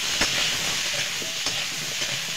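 Potatoes with turmeric and salt fry in a pan, a loud close sizzle running throughout while a utensil stirs them, giving a few scraping taps over the steady hiss.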